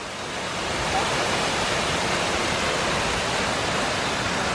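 A waterfall on a hiking trail in the Spanish Pyrenees roars as a dense, steady rush of falling water, loud and close, rising slightly at the start and then holding constant with no voices.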